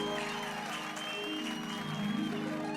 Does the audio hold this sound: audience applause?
yes